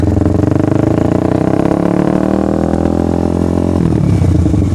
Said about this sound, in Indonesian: review suara knalpotnya nih, check sound dan tes jalan riding. Motor Kawasaki Ninja 250 SL 1 silinder pakai knalpot racing dari X1 Speed